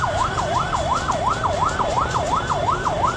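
A vehicle's siren wails in a fast, regular up-and-down sweep, loud and continuous over a rumbling road and crowd background during a presidential campaign rally procession.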